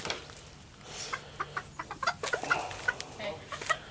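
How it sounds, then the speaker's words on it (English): Hens in a backyard chicken pen cluck in short, scattered bursts at close range over a quiet background, with a few louder calls standing out toward the middle and end. "See the chickens?"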